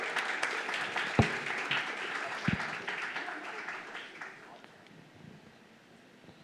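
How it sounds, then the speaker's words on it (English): Audience applause at a sustainable cities forum, scattered clapping from a seated crowd gradually thinning and fading out over several seconds, fairly quiet and distant. "Please give them a warm round of applause."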